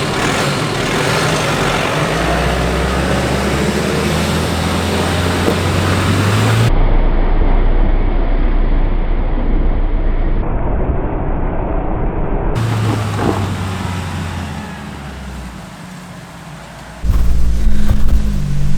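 A 4x4 engine revving hard in first gear low range as the vehicle climbs a slippery dirt track near a coastal blowhole, a loud sustained drone that swells and shifts pitch, with wind-like noise and abrupt changes in the recording.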